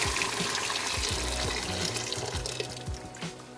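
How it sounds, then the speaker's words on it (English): Tap water runs into a kettle while cooking a seafood boil, a close steady splashing gush with shifting pitch as the vessel fills, heard alone. "So I have my kettle here. Add some water."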